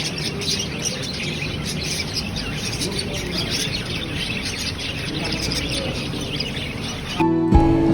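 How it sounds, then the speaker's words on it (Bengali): Many colourful caged birds chirp and squawk constantly at a five-star hotel in Cox's Bazar, a dense, loud chorus that runs throughout before a brief shift in sound at the very end. "অনেক কালারফুল পাখি আছে। আমরা পাখিগুলো দেখতেছিলাম।"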